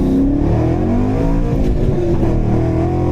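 A 2014 Chevrolet Camaro Z28 race car's engine roars steadily nearby as it drives past, a continuous revving drone that stays loud throughout with no voices.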